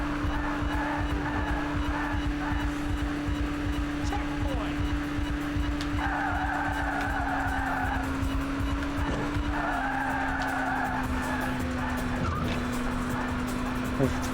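Burnout racing car speeding against oncoming traffic, a steady loud engine drone with repeated tire squeals and skids layered over continuous game noise.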